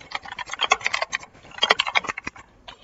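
Quick bursts of keystrokes on a computer keyboard while typing into a Discord thread, clattering close and clear in two short runs with no voice over them.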